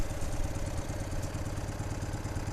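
A 1965 BMW R50/2 motorcycle engine runs steadily, a close, even, rapid mechanical chuffing and clatter with a regular pulse throughout, no voices.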